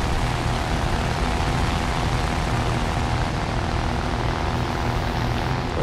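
Gloster Gladiator J8A biplane in War Thunder air arcade combat, its propeller engine droning steadily and loudly throughout with a dense, unbroken rumble and no voices.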